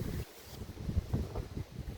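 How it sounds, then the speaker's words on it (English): Strong outdoor wind gusts buffet the microphone, making uneven rumbling bursts that rise and fall over a couple of seconds, loud and close. "It's very windy"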